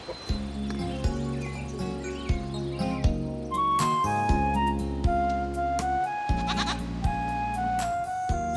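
Black goats bleat at a morning roll call on a mountain farm in Jirisan, loud repeated calls overlapping from several animals, with a whistle and insect chirps in the background.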